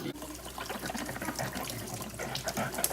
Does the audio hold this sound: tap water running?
yes